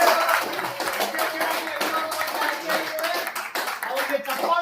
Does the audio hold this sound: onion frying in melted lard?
no